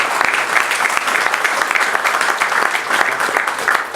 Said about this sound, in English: So I think we should give him a big hand of applause.